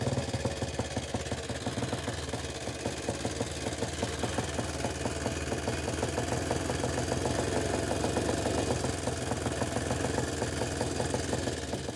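A restored 1928 motorcycle engine runs at a steady idle close to the microphone, a continuous rapid, even chugging with rattling mechanical knocks and no pauses.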